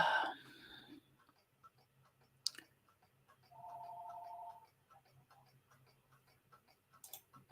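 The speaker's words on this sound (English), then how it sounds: "my freaking phone is going nuts" A phone rings once at low volume, a steady electronic trill of about a second, set against quiet room noise and faint ticking, with a brief louder clatter at the start.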